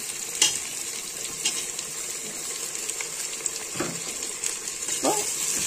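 Tomatoes and green chillies sautéing in a pan for egg biryani, a soft steady sizzle with a few sharp scrapes of a spoon, close and unaccompanied by speech.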